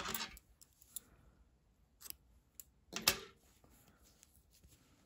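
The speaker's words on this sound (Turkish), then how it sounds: "İpliği kesiyorum." Scissors snip through crochet yarn in a few crisp, close cuts, with sharp transients near the start, around two seconds and a louder cluster just after three seconds, separated by quiet handling noise.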